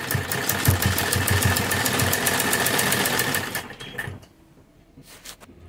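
A sewing machine stitching lace onto a kurti runs in a fast, steady mechanical whirr for about four seconds, then stops, leaving a quiet room with faint handling noises.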